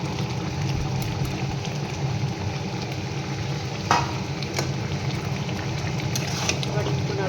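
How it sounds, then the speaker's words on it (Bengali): Chilli chicken gravy with tomato and chilli sauce stirred in a pan: continuous bubbling sizzle under a low background hum, with occasional scraping knocks of the spoon. "এবার একটু নাড়াচাড়া করে নেব।"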